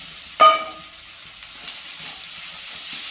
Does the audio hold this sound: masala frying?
yes